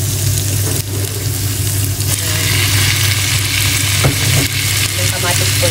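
Onions sauté in a hot pan while being stirred, giving a loud, continuous sizzle broken by scraping and clinking stir strokes, with no talk.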